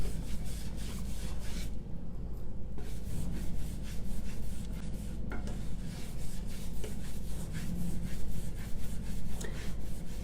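Clear furniture wax being rubbed by hand onto a salt-textured painted furniture surface, a steady, close scrubbing and rasping texture that continues without pause and without talk.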